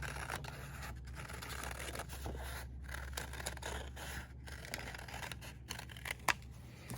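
Scissors snip through paper along an almond-shaped line for a craft project, a run of close, quiet cutting strokes with a regular rhythm and a sharper click near the end.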